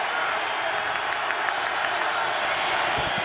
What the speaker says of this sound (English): Crowd urging on the Tampa Bay defense